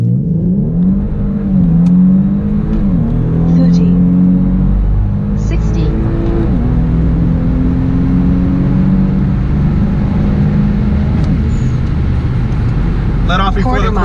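A car with a 7-speed automatic transmission accelerates hard on a quarter-mile run, its engine rising and dropping in pitch through gear changes as a loud, steady in-cabin drone, with voices talking over it.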